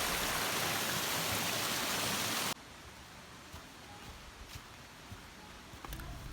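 Waterfall at Hanging Rock State Park rushes loudly as a dense, steady roar, then drops abruptly to a quieter, more distant wash of flowing water.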